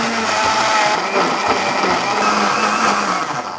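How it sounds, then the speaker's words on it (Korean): An electric blender whirs loudly and steadily up close, its motor grinding with slight pitch wobbles as diced onion and red chili with a little water are chopped. "믹서기에 갈아주세요"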